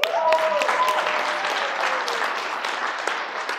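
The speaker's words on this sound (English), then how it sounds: "give yourselves a big round of applause" Audience applause in a school assembly hall for a motivational speaker's talk, clapping with some cheering and a whoop rising over it, gradually fading across a few seconds.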